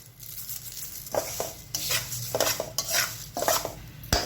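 A roasted dry spice mixture with roasted coconut stirred with a spoon in a pan, steady scraping and rustling strokes with light metallic taps on the pan, close and alone.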